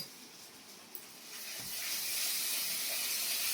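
Spices sizzle in hot oil while being tempered for a light fish curry with bottle gourd and potato, a steady soft hiss that swells louder midway and holds, with no talking.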